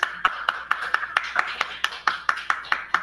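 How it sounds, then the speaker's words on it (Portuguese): Children clap their hands in a steady, even rhythm of roughly fourteen crisp, moderately loud claps over three seconds, with little else around them. "Vamos bater palmas, pelo menos"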